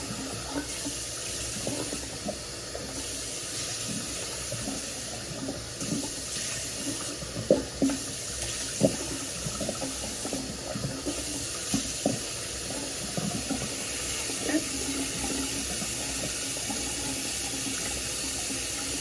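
Tap water runs steadily into a bathroom sink while gloves are rinsed, with soft splashes and intermittent handling sounds.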